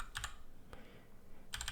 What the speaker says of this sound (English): I'm going to type npm i, and we're going to install Mongoose.